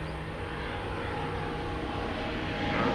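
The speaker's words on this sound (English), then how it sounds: "Well, there comes an airplane." A passenger airplane passes over a park in Tokyo, a steady broad engine roar that swells slightly toward the end, heard alone without talking.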